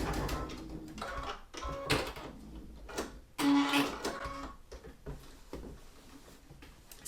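Sewing machine stitching quilt fabric straight off the point onto waste fabric during quilt preparation, a run of short mechanical bursts with brief pauses between them, close and moderately loud with no talking.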